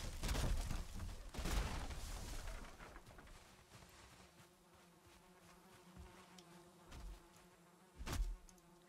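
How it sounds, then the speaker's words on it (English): Bees buzz inside a structure in the game Valheim, a steady insect hum that holds throughout, broken by a few sharp thuds at the start and near the end. "I think there's bees inside of it."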